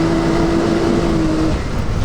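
Can-Am Maverick X3 Turbo side-by-side drifting through a dirt turn, engine droning loud and close with a steady tone that holds, then shifts pitch near the end as the machine exits the slide.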